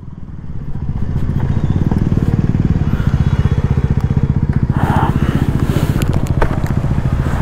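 Motorcycle ridden on the way to Kankeshwar temple in Alibaug, its engine running loud and steady close by while a newly fitted top box rattles and clatters continuously along with it.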